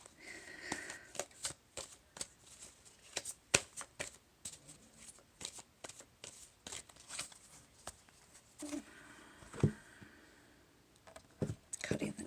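Tarot cards are shuffled by hand in irregular bursts of crisp riffles and slaps, close and fairly quiet, with faint breaths and small clicks between them.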